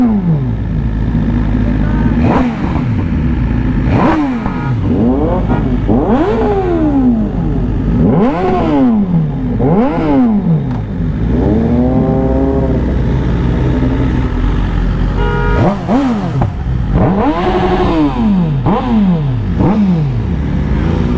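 Several superbikes, a Suzuki Hayabusa, BMW S1000s, a Ducati and a Kawasaki 6R, rev hard and ride past on an expressway, loud rising and falling engine sweeps overlapping one after another, close and continuous.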